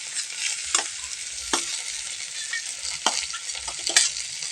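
Banana pieces for a pickle fry in hot oil, a steady close sizzle broken every second or so by the scrape of a stirring spoon.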